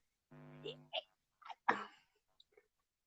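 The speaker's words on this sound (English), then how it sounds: "sneezing in the background" Someone in the background gives a short burst of sneezes mixed with vocal sounds, a few brief separate bursts against quiet.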